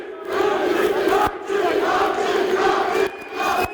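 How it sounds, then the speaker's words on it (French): A Marseille crowd at an amateur MMA event, Warrior Fight Night, roars and chants loudly and continuously, a dense wall of voices with brief dips, without commentary over it. "Toujours la foule marseillaise, toujours aussi engagée."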